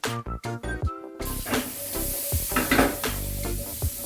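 Asparagus frying in a pot, with a few loud metallic knocks and shakes at the start, then steady sizzling and hissing with intermittent rattling as the pot is shaken, close and fairly loud.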